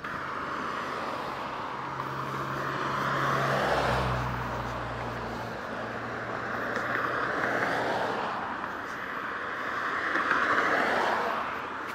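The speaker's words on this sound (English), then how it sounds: "You might hear some cars" Cars swish past outside in slow waves, rising and fading one after another over a steady background rumble, with wind buffeting the microphone.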